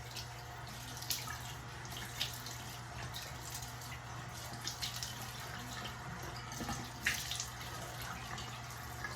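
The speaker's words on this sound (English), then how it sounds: "let's wet the face" A tap runs steadily at a basin as a face is wetted before shaving, with soft splashes and a few louder water slaps over a constant low hum, close and fairly quiet.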